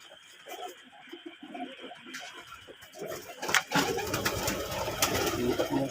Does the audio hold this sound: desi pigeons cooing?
yes